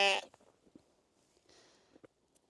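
A sheep gives one loud bleat at the start inside a farm stable during winter housing, followed by quiet shuffling and faint rustles.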